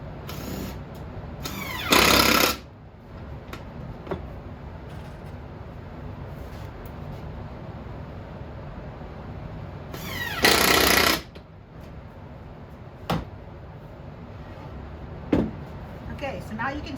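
Power driver sinking screws into a carved wooden oil lamp holder, two loud buzzing bursts of about a second each, separated by quiet handling, with a few sharp clicks and knocks in between.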